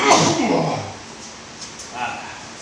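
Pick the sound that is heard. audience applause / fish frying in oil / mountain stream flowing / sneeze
sneeze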